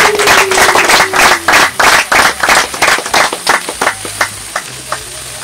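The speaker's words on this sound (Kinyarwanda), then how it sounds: "amashyi menshi bose" A crowd at an anniversary celebration claps in loud, rhythmic unison, with quick regular beats about four per second that stay close and strong before slowly thinning toward the end.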